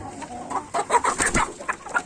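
Chickens and a rooster cluck in a farm coop, a series of close, uneven clucks and squawks coming in bursts.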